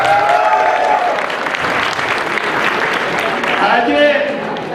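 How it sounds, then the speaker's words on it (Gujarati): Audience applause fills a festival-event hall with steady, dense clapping that stays loud throughout, and a voice can be heard faintly beneath it. "તાળીઓના ગગડાથી ઉડાવી."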